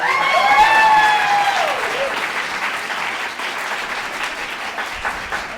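Applause from an improv show audience at the Duo Improv Championships, a full round of clapping that starts with a loud whoop and whistling cheer and then eases into a steadier, slightly softer patter.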